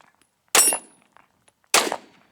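Two sharp, loud gunshots from a CZ 52 pistol on an outdoor range, about a second apart, each a sudden crack with a brief ringing decay and quiet between.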